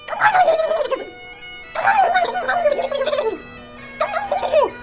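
Turkeys gobbling loudly in three rapid, warbling bursts separated by short pauses, close by, with no talking.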